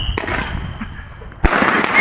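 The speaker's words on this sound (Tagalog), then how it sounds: "Mag-try ulit sila magpaputok ng dalawang paputok pa." Fireworks set off on New Year's Eve, a sharp close bang near the start, a stretch of crackling and hiss, then a second loud burst followed by dense crackle.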